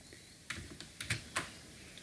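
Quiet, close computer keyboard typing as a captcha is entered on an online scholarship form, a few soft irregular key clicks over a low steady room hum, with no talk.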